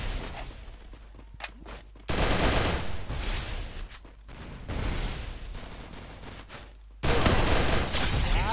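Loud, dense bursts of automatic gunfire in a mobile shooter video game come in long rattling volleys separated by brief quieter gaps, with the heaviest bursts near the end.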